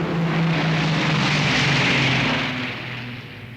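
An RAF Shackleton, a four-engine propeller aircraft, taking off from the Gibraltar base in 1966, heard as a steady, loud engine roar with a low droning hum that eases slightly toward the end.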